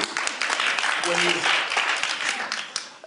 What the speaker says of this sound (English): Could I get a round of applause for that?